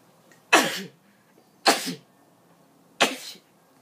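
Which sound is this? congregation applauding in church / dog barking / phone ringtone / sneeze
sneeze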